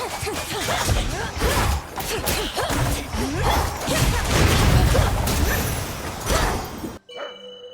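Dense, heavy weapon impacts from the game Hades II, including axe hits, and swooshes crash together in a busy, chaotic stream of thuds and clanks, ending abruptly in near silence.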